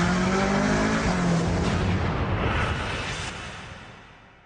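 A Ferrari California V8 downshifting: a loud, close engine roar with a rising blip and a rough, crackling exhaust note that fades away over a few seconds, with no talk.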